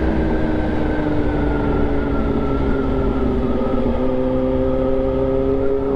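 A Kawasaki Z H2 motorcycle engine revs up close, its loud rising whine climbing and holding before dropping back, with no talking.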